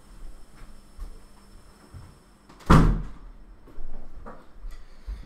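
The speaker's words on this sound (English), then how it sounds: "So I'm going to close the door." Interior door closing with one firm thud, followed by faint shuffling and a softer knock in a quiet room.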